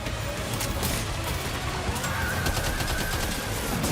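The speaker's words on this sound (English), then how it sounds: "Opening fire now." Rapid automatic gunfire in Death Stranding 2: On the Beach, a dense, continuous crackle of shots over a noisy battle backdrop, loud and sustained with no pauses.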